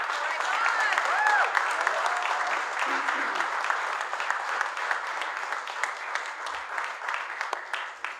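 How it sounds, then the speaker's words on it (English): Audience applause welcoming the president of the National Rural Letter Carriers Association at a postal union event, a steady, dense clapping that fills the whole stretch and tapers off slightly toward the end. "So please help me in welcoming the president of the National Rural Letter Carriers Association, Don Masters."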